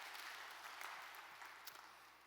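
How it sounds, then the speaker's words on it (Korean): A church congregation claps steadily to welcome a new minister, the applause sounding faint and distant as a soft, even wash throughout. "여러분 크게 박수로 환영하실까요?"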